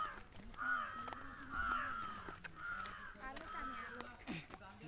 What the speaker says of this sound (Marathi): ते कावळे म्हणतायत.